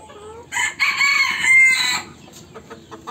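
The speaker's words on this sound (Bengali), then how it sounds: "এখানে আছে আমাদের দেশি মুরগি," Local desi chickens on a farm: a rooster gives one loud, close crow, followed by softer clucking from hens.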